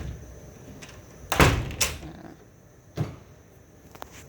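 A door to a garden-view cabana room at the Centara Ko Chang resort is opened and shut, giving a few dull thumps and rattles spaced over a few seconds against a quiet room.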